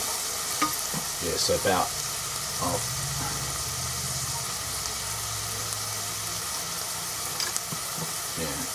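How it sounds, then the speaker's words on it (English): Food sautés in a pan for cream of pumpkin soup, a steady sizzle and fry with occasional stirring scrapes, close and continuous, with a brief spoken remark over it. "we're going to saute until transparent"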